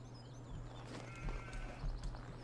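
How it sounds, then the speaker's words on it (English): Sheep bleat in Farming Simulator 17 on a wintry Pacific Northwest farm, a few soft, moderately distant calls over a steady low hum of game ambience, with no talking. "the sheep need some grass."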